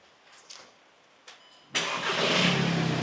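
A rebuilt VW Transporter T5 engine, fresh after a timing belt failure, cranks briefly and catches at once, then settles into a loud, steady, throaty idle after some small knocks.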